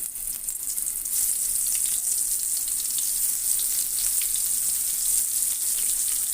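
Marinated brinjal pieces fry in oil in a pan for a curry with small river fish, a loud, steady hiss and crackle that holds evenly throughout with no talking.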